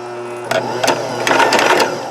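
A sewing machine driven by foot pedal stitches through a jeans seam nine layers thick, giving a few close, loud, uneven thumps and clatters as the needle punches through the bulky denim.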